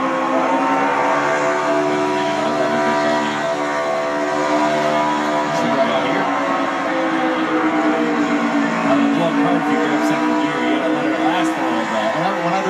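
NASCAR Cup car driven by John Hunter Nemechek doing a burnout at Las Vegas, a loud, sustained engine roar whose pitch wavers and rises with revving, running unbroken and close throughout.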